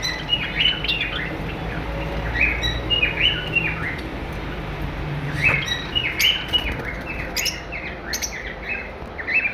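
Cockatiel and lovebird breeder pairs chirp in a bird shop, with many short, bright tweets and squawks repeating in quick irregular bursts over a soft background hum.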